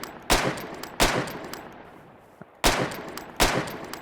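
A musket from the Scorched Guns 2 Minecraft mod fires four loud, sharp shots in uneven succession, each a hard crack with a short decaying tail and no voices.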